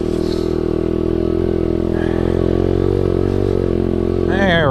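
An SSR125 pit bike engine runs loud and close throughout, holding a steady drone before revving upward as it shifts into second gear near the end; a voice speaks over it.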